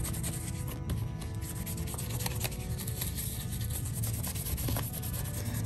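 Soft, continuous scrubbing of a plant's leaves and stems with a very soft bristle brush to dislodge spider mite webbing, faint and close with a fine, papery rubbing texture throughout.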